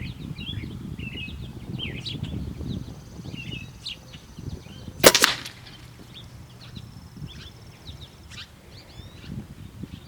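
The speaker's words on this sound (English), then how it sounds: "So now I'm going to take the shot." A single sharp crack of an air rifle pellet shot at about 50 yards stands out at mid-clip, brief and loud against a steady outdoor background of chirping birds.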